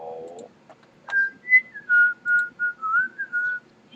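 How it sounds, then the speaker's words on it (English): A person whistles a short tune of about eight clear, separate notes, loud and close, after a brief lower vocal sound at the start. "Stop whistling."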